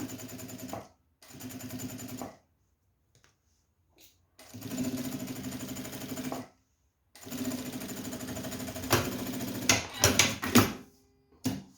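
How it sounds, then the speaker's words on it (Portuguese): A sewing machine stitches close along a zipper on a handmade bag, running in several short bursts with pauses between and a quick backstitch at the start and end, loud and near with no talking. "Eu vou passar uma costura bem rente aqui ao meu zíper."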